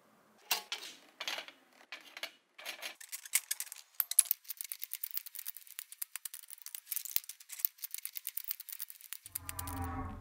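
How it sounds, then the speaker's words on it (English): Aircraft shears trimming the edge of a sheet metal part in a home workshop: a run of quick, crisp metallic snips and clicks that speeds into a dense, rhythmic cutting chatter, close and alone. "I'll use aircraft shears to trim the edge."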